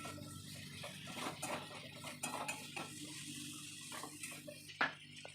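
Pointed gourd and potato pieces stirred in a pan for a prawn dish, a quiet run of repeated scrapes and metallic clinks of a spatula with a light sizzle underneath and one sharper knock near the end.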